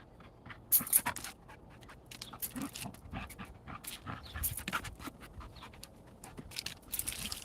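A dog named Gray works at a toy with her teeth, giving soft gnawing crunches and quick panting breaths, close by and fairly quiet, with occasional sharper knocks.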